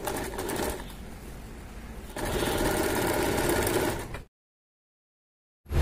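Sewing machine stitching piping onto a fabric neckline: two close runs of rapid, steady stitching with a brief dip between them, then silence and a short noise at the end.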